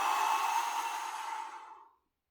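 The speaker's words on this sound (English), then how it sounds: "deeply inhale, then fully exhale" A long, full exhale during Wim Hof breathing: a breathy rush of air close to the microphone that holds steady, then tapers off and stops after about two seconds, leaving silence.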